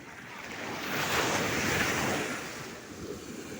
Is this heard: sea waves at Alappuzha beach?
yes